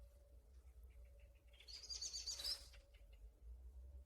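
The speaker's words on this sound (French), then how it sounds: "Il y a les oiseaux qui sont avec moi là, ils sont en train de... Ils chantent là." Birds sing outdoors on a sunny day, a faint, distant flurry of high chirps rising briefly midway over quiet background ambience.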